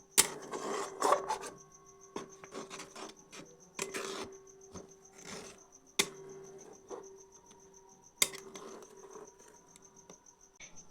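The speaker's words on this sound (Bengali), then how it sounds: "তো এরপর এটিকে ভালো করে মিশিয়ে নিচ্ছি, গুঁড়ো দুধটিকে এই দুধের সঙ্গে।" Powdered milk being stirred into milk in a bowl, giving a series of quiet scraping, tapping strokes with irregular bursts over a steady faint background hum.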